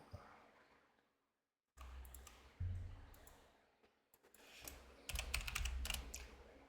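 Quiet, irregular bursts of typing on a computer keyboard, with clusters of soft clicks separated by short pauses and a brief silence near the start.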